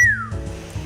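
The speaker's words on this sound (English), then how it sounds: "Oh, that's a whistle." A single short whistle blast in a visual novel game set around a swimming competition, a bright tone sliding slightly downward for a fraction of a second before fading under soft background music.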